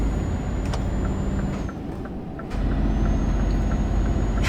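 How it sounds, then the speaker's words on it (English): A heavy truck engine in Euro Truck Simulator 2 rumbles loud and deep, dips briefly in the middle, then surges back to a full low drone, with a few faint clicks and a thin whistle above. "it just sounds louder, like a lot louder. It's got more rumble to it."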